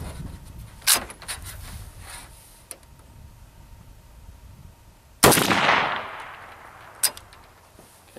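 An AK-74 rifle fitted with a KNS adjustable gas piston fires single rounds outdoors, with sharp cracks near 1 and 5 seconds; the louder second shot rings on with a long decaying echo, and no one speaks.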